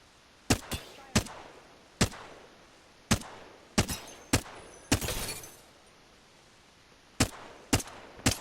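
Flatline rifle in a video game fired in single-shot mode, about a dozen crisp, loud reports spaced irregularly with short gaps, one followed by a brief rattling tail.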